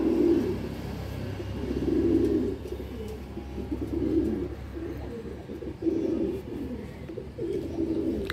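Pigeons in a loft coo steadily, soft repeated throaty calls in a regular rhythm, fairly close and moderately loud, with faint background hum and no talking.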